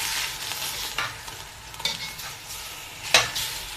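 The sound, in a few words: meat with cardamom and bay leaves stirred while frying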